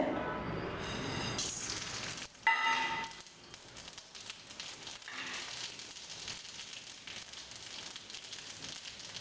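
Crackling, spattering sizzle of mustard seeds popping in hot oil, with a sharp burst early on and then a continuous busy crackle.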